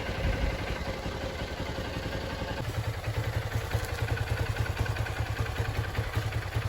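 A Honda XR150L motorcycle engine idles cold close by with a steady, lumpy chugging and mechanical clatter, settling into an even rhythm after a rougher start.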